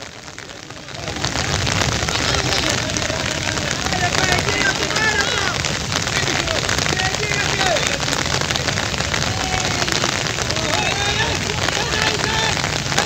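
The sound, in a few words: heavy rain pouring during football match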